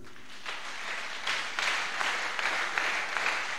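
A church congregation applauds God: steady, moderately loud clapping from many hands that builds slightly and holds, with no talk over it.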